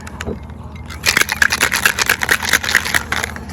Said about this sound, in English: And we'll give that a little shaky.